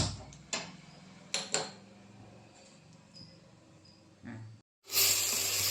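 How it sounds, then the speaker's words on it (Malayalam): A kitchen stove burner catches with a couple of sharp clicks, then settles into a steady soft hiss, ending in a louder roar of flame, with no talking. "സ്റ്റൗ ഒന്ന് കത്തിക്കട്ടെ"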